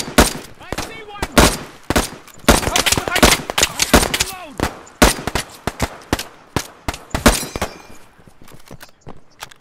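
Rapid rifle fire in a video game, loud, close bursts and single cracks spread through the whole stretch, with players shouting over the shots.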